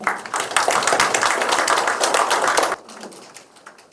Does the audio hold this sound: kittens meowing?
no